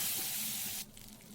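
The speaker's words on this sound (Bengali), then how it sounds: "আর ওই মাছ ভাজার তেলেই আমি দিয়ে দেবো" Eggplant pieces hit hot oil left from frying hilsa fish, giving a loud, bright sizzling hiss that breaks off sharply after under a second, leaving only faint crackle.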